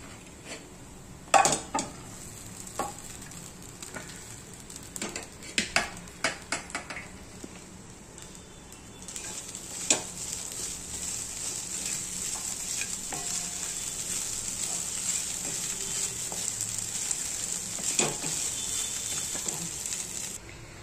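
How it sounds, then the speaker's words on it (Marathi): Sago pearls added to a pan for chatpati sabudana khichdi, with peanuts already roasting: a few clattering drops and scrapes at first, then a steady, moderately loud sizzle with intermittent stirring clinks, no talk. "आणि आता साबुदाणे टाकायचे"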